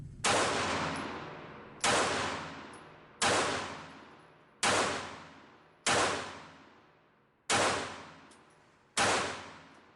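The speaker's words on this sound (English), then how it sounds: "I'm shooting Sig Sauer Elite Performance 100 grain full metal jacket 380 ammo." A Springfield Armory 911 .380 micro pocket pistol firing Sig Sauer Elite Performance 100-grain full metal jacket ammo: seven sharp, loud, close shots spaced about a second or so apart, each ringing briefly before the next.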